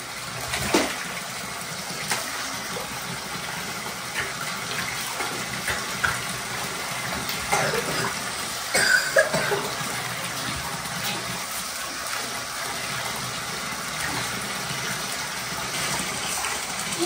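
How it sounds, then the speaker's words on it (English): Water in a bathtub during a young child's bath on a non-slip mat, a continuous soft splashing and trickling wash close by, with occasional louder splashes and brief faint talking. "We're gonna give my son a bath."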